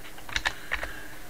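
Typing on a computer keyboard: four quick soft clicks in two pairs, close and clear against a quiet background hum.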